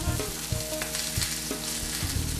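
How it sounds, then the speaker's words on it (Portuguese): Hamburger patties fry in a pan with a steady, close sizzle and occasional utensil clinks, with no talking heard. "vou cuidando um pouquinho desses hambúrgueres"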